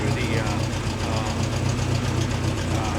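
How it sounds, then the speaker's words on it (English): A 1965 Triumph TR-4 engine idles at about 750 RPM, a steady, even, close-up rumble with a regular pulsing throb that holds unchanged throughout. "it's idling now at about 750 RPMs"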